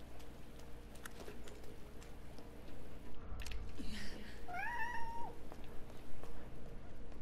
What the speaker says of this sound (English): Watch out, you crazy cat.